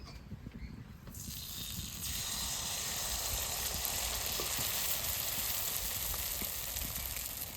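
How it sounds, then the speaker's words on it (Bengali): A quiet start gives way to a sudden, loud hiss as rice-flour batter hits hot oil in a kadai for patishapta pitha, then a continuous bubbling sizzle that holds steady to the end. "চালে গুলানো গুঁড়িটা দিয়ে দেবো কড়াইতে"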